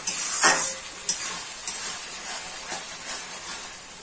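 Spice paste sautés in hot oil in a pan with a soft, steady hiss and sizzle, joined by a few light taps and scrapes of a stirring spoon close by.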